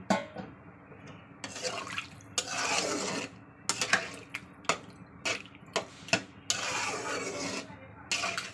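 Water poured into a curry in a pan, coming in several short gushing bursts with quiet clinks and splashes between them, close and moderately loud.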